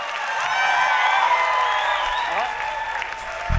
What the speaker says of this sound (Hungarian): Nagy tapsot a kicsi Dórinak és Évának!